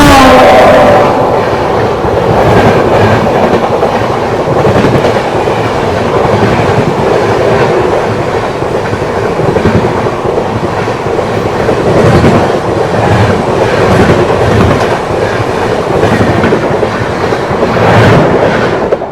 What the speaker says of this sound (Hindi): गोरखपुर से एलटीटी के बीच चलने वाली गोदान एक्सप्रेस ट्रेन ओवरटेक करके जाने वाली है हम लोग की ताप्ती गंगा एक्सप्रेस ट्रेन को